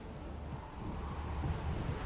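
Steady rain with low, rolling thunder rumbling underneath in The Witcher 3, a continuous wash of rainfall that grows slightly louder toward the end, with no voices.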